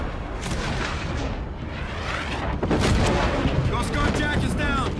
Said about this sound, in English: Watch for flak!